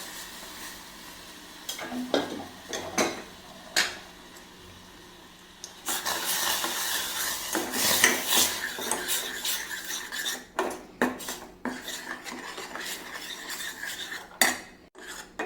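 Ground paste for a simple vegetable dish warming in a pan while being stirred, with soft sizzling under repeated scrapes and metallic clinks of a spoon against the pan, fairly quiet throughout.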